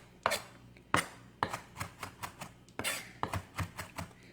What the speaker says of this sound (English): I just kind of keep scraping everything towards the middle as I'm chopping,